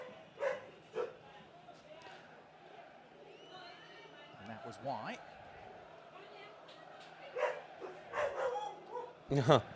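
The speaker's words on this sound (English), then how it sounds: "my uncle just has his dog. And that's why you hear the barking" A pet dog barks and yips in the background of a home, several sharp barks at the start and end with a whimpering bit in the middle, under a voice and a television football broadcast.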